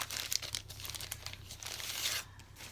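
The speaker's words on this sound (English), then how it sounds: "Let me take it out of the plastic" Plastic packaging around newly arrived hand-painted teal home decor crinkles and crackles as it is pulled away, a busy, continuous rustle with a few sharper tears, close by and with no voices.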